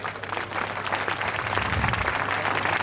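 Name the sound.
applause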